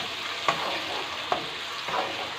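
Onion paste masala frying in a pan, a steady, moderate sizzle broken by three brief stirring clicks.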